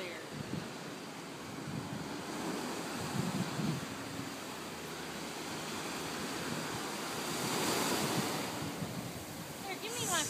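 Ocean surf washing in below Panama City Beach Pier on the Florida coast, a steady broad roar with swells rising and falling, wind buffeting the microphone throughout, and faint voices mixed in.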